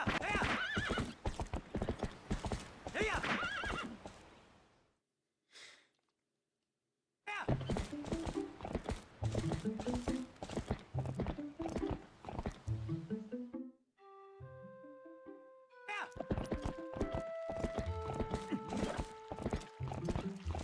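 Clopping hooves and loud neighs of a large horse in the video game Twilight Princess, heavy galloping hits in bursts separated by short silences, with musical game chimes near the end.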